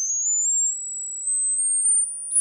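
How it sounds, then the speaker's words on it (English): Test tone from ultrasonic equipment: a single steady, fairly loud high-pitched electronic tone that holds for about two and a half seconds while slowly gliding upward in pitch, heard alone. "Can you hear that, Clive? Yes. Yeah, That's tones again"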